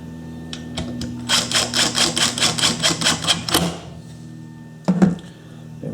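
Cover screwed back onto a Makita belt sander, heard as a rapid run of about a dozen evenly spaced ratcheting clicks from a driver, followed by a few loud knocks and a thunk close by.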